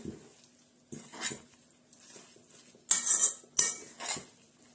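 Spoon scraping and clinking in a bowl while zucchini cutlet batter is stirred together with semolina, several short bursts of clatter separated by quiet pauses, close and moderately loud.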